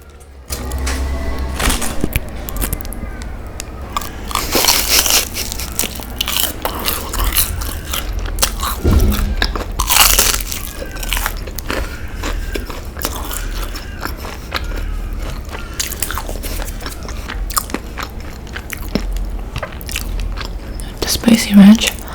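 Crunchy Taco Bell rolled chicken tacos with spicy ranch are bitten and chewed close to the microphone, giving repeated loud crackling crunches and wet chewing, with soft murmured talking mixed in.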